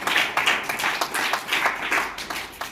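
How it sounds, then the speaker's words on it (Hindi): Clapping from an audience at a taekwondo academy felicitation ceremony, arriving in uneven rolling bursts that swell and fade over a few seconds, moderately loud and without speech. "उन सबों के लिए एक जोरदार ताली बजनी चाहिए"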